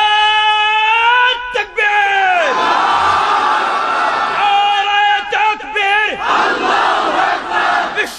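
A large crowd at a religious rally roars a takbir chant in unison, with loud, sustained group shouts that rise and fall across several waves and a brief break near the start.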